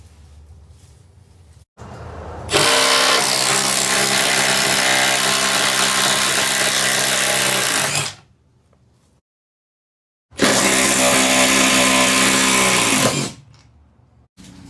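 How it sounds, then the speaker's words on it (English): A Milwaukee M12 impact driver works on stubborn screws in a campervan floor, with two loud, sustained bursts of hammering whir, several seconds each, separated by short pauses and quiet gaps. "Even with using the right size bit and the Milwaukee M12 impact driver, it takes a lot for this to even budge."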